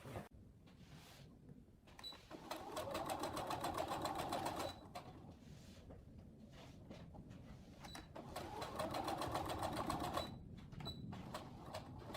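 A sewing machine stitches the sleeve of a men's dress shirt being resized from large to small, running in two steady bursts of rapid, even clatter with brief pauses and handling between them, close and fairly quiet with no talk.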